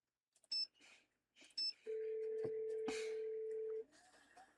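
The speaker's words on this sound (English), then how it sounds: "now it's time to make our annual phone calls" A telephone in a Nancy Drew mystery game gets dialed: a few short bright keypad tones, then a single steady held tone lasting about two seconds, with faint clicks around it.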